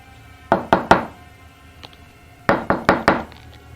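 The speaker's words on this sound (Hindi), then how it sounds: "मगर सज्जनता के नाते मैंने फिर भी दरवाजा एक बार और खटखटा दिया।" Knuckles rap on a wooden house door in two separate bursts, three sharp knocks then four more after a short pause, close and clear with no voices.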